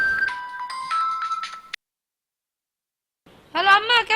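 A mobile phone ringtone plays a bright electronic melody for under two seconds, then cuts to silence before a voice begins speaking.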